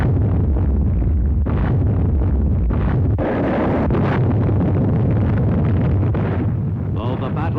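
Naval warships shelling invasion beaches on D-Day in the Pacific during WWII, heard as a continuous loud roar of heavy booms and rumbling blasts, with wind buffeting the microphone throughout.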